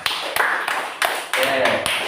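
Classroom audience clapping for a student, a handful of sharp, distinct claps at an uneven rhythm, fairly close and clear.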